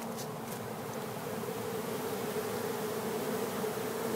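Honeybees swarming around and beneath a beehive make a steady, dense buzzing drone, close and continuous throughout, with no voices over it.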